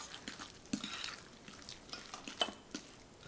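A spoon stirs a stuffed-shell filling of cheese, parsley and eggs in a bowl, giving soft irregular scrapes and light clinks at close range, fairly quiet.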